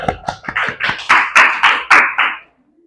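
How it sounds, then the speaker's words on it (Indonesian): A small classroom group claps for the first presenting team during a lesson, roughly a dozen loud, sharp claps in an accelerating then steady rhythm, close by, stopping abruptly. "Beri tepuk tangan untuk kelompok 1"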